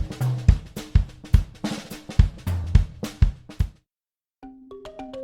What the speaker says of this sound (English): The open hi-hat.